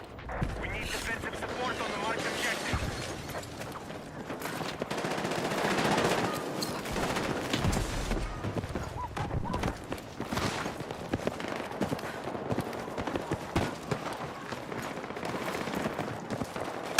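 Rapid automatic gunfire rattles through a Battlefield 6 firefight, sustained bursts with brief pauses running nearly continuously, loud and close, with a voice talking over parts of it.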